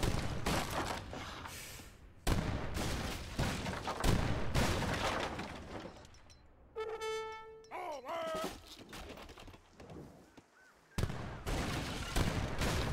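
Rapid bursts of leather cannon fire in a video game boom and crack in volleys, with game sound effects and a rising tonal chime in the middle; a voice talks intermittently.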